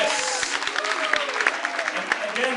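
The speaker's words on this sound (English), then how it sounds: "please give them a big round of applause" An audience claps at a lobby awards ceremony in Brussels, a dense, continuous burst of applause with sharp individual claps standing out, fairly close and loud throughout.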